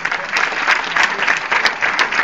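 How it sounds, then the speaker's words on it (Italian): Audience applause fills an Italian hall, steady dense clapping close and lively, without a break for the full stretch. "Un altro applauso."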